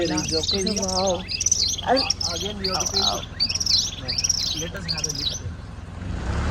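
Birds chirp and tweet beside a lake at an outdoor picnic spot in Africa. The calls are bright and repeated, come in quick overlapping bursts, sound fairly close and loud, and stop near the end.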